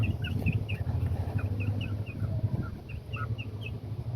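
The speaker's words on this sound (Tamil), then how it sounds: "ஒரு சேவல் வச்சுருக்கான், அதுக்கப்புறம் ஒரு நார்மல் ஃபீமேல் ஹென்னு வச்சுருக்கான்." A rooster and a hen cluck and chirp repeatedly over a steady low hum, the short calls scattered across the clip at moderate distance.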